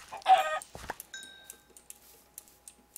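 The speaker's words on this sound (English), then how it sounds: "I found chickens." Video game chickens cluck in short bursts, followed by light clicking taps scattered through a quiet background.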